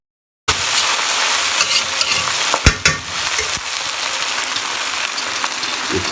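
Rice fries in a pan while being stirred for sweet jaggery rice, a loud, continuous close sizzle broken by a sharp scrape or clack of the utensil partway through, with no speech.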